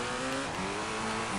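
Rally car in Colin McRae Rally sliding through a handbrake turn, engine buzzing steadily while a sustained tire squeal rises over it, all loud and continuous through the brief moment.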